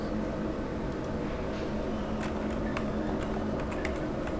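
Scattered clicks from typing on a computer keyboard, faint against a steady background hum.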